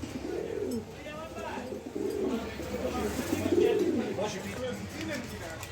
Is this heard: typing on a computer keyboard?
no